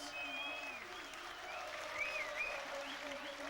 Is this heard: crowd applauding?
yes